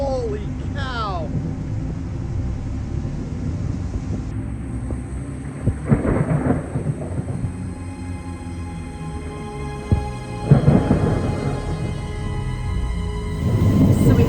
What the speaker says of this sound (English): we have this absolutely insane storm right now